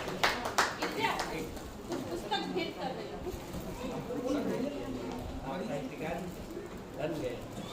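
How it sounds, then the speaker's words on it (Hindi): An audience at a Hindi poetry gathering claps for a welcome, a dense patter of applause with some voices chattering alongside. "तालियों से इनकी स्वागत की जाए"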